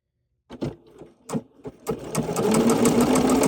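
A serger sews a wide 2-thread wrap stitch for a fringe edge. A few short bursts come first, then the motor settles into a steady, loud, close-up whir.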